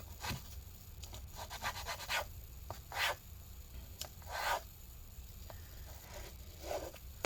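Intermittent rubbing and scrubbing on adhesive residue inside a 2012 15-inch MacBook Pro Retina A1398, short soft strokes in scattered bursts, close and quiet with no talk.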